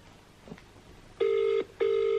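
A telephone line in a restaurant setting gives two steady tonal beeps, each about half a second long, clear and close, with a short gap between them, after a brief faint knock.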